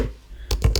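Computer keyboard keys typed in a short burst of a few quick taps, close and fairly crisp, after a quiet pause with no talking.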